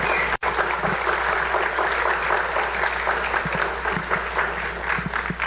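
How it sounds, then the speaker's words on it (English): An audience at a winter music festival concert breaks into sustained applause, a dense wash of clapping that holds steady and loud throughout with a few sharper individual claps. "Yes, please, a round of applause."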